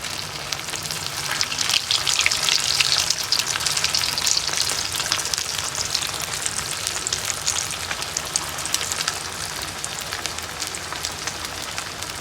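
Kebab pieces frying in a pan of oil, a continuous dense crackling sizzle up close, steady and loud for the whole stretch with no voices.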